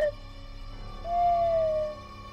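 Eagle owl hooting in a video game: two clear, tonal hoots, a brief one at the start and a longer, sustained, slightly falling one after a pause, over a quiet background hum.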